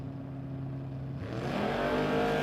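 Drag race cars at a no-box race event: a steady engine idle breaks into a loud, rising roar halfway through as a car launches and revs hard.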